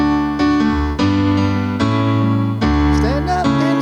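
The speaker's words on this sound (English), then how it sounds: "Otherwise, if you match the bass with the chord, it would sound like this." Piano playing a short progression of sustained chords, the bass note moving with each chord, clear and close with about five changes and no voice.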